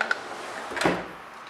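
A makeup-storage drawer slides open with a short scraping rumble and a light knock, a brief close sound in a quiet room.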